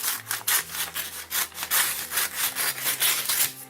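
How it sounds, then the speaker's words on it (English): Scissors cutting a sheet of freezer paper in half, a steady run of rough scraping, rasping strokes close by with no talking. "And let me cut this piece in half."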